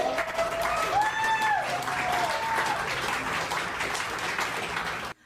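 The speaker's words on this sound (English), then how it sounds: "and then she gets a round of applause" Audience applause in a political setting rolls on as a sustained, even wash of clapping. Voices and cheers rise over it early, and the sound cuts off abruptly at the end.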